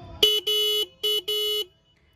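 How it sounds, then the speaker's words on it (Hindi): A 2022 Hero Xtreme 160R motorcycle's single high-tone horn sounds in four short blasts, two pairs with brief gaps, fairly loud and close, then silence. "सिंगल हॉर्न है बट जो टोन है ना वो काफ़ी यहाँ पे हाई रखी गई है"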